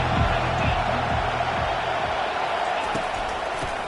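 A large stadium crowd roars steadily through a college football game between Miami and Alabama, with a dense, continuous wash of cheering and scattered claps and thumps; no single voice stands out.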